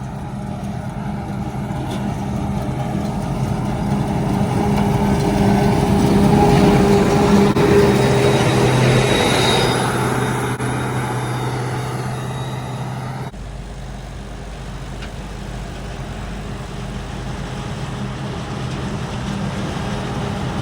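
Heavy, steady diesel drone of a forage harvester being driven during the grass harvest, loud and continuous with a slight rise and fall in intensity, mechanical rattles on top and no talk.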